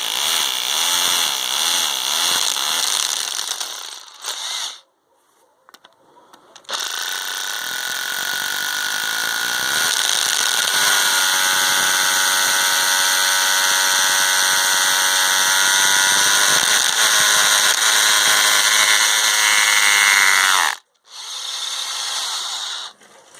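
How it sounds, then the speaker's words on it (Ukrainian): Loud, sustained grinding whine of a rotary hammer drilling into hard material, running in long bursts with brief pauses between them. "співставно з швидкістю сверління шуруповерта, швидкість сверління перфоратора"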